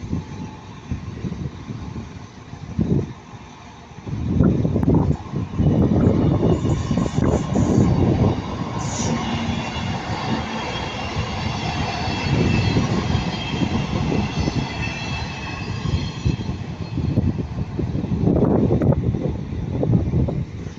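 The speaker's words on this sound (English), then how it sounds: "now going to be an East Midland train class 158 going from Norwich to Liverpool" East Midlands Railway class 158 diesel unit on a Norwich to Liverpool service rumbles past at Ardwick on a nearby track, a steady loud roar of engine and wheels lasting most of the stretch, with wind buffeting the microphone.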